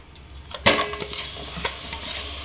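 Jaggery is dropped into hot ghee in a pan and stirred, giving a soft sizzle with scraping and clinking of a spoon against metal, one sharp knock early on, and no voices.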